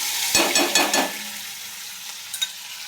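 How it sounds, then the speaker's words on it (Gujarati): Ginger, chili and garlic paste sautéing in an oil pan with mustard seeds and cumin, a bright steady sizzle with a few sharp stirring scrapes early on, then settling into a softer continuous frying hiss. "તો આવી રીતે આદુ મરચાં લસણની પેસ્ટ નાખી દીધી છે. એને સારી રીતે આવી રીતે સાતળી લઈશું."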